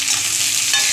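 Ginger, garlic and tomato with salt stir-frying in hot oil for a hilsa fish-head moong dal, a loud close sizzle with a quick stir near the end.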